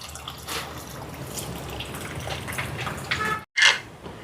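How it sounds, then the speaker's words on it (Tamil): Soaked tamarind water is poured into a spicy crab curry, a soft liquid trickle and splash close by, ending in a brief louder pour. "புளி சேர்க்குறேன்."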